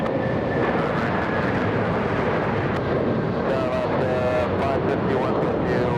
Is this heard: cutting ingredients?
no